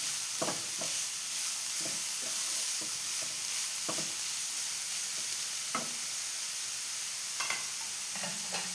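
A rice and egg snack filling is sautéed in a pan, with repeated scraping stirs over a steady, close sizzle of frying.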